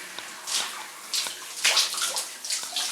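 Running water rinses shampoo out of curly hair in a shower or tub, with splashing gushes and soft drips rising and falling over a few seconds and no talking.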